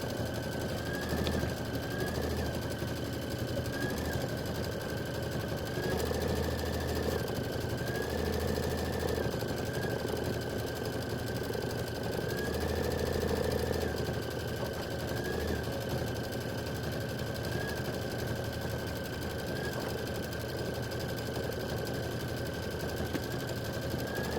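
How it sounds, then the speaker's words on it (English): An embroidery sewing machine stitches out a flag block design, a steady mechanical whir and rapid needle chatter running continuously with small pitch shifts as it moves through the pattern, close and alone. "it's going to stitch out Land That I Love America"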